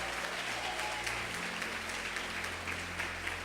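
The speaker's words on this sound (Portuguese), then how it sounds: "que a igreja, como família, receba vocês com uma salva de palmas nessa noite" A church congregation at an evening communion service applauds together, a dense, even wash of clapping that holds steady throughout, heard from within the room.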